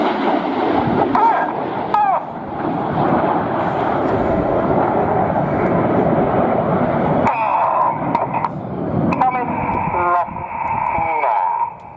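Red Arrows jets fly rollbacks at an airshow display, their engines a loud, steady, far-off roar that fills the scene and shifts partway through, while a commentator talks over the public address.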